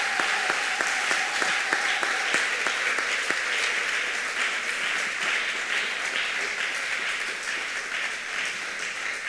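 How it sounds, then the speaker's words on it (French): A church congregation bursts into applause and acclaims God during a morning service, with dense, sustained clapping filling the room evenly throughout, a few faint voices mixed into the crowd. "Qui veut acclamer la présence bénie de notre Dieu ce matin?"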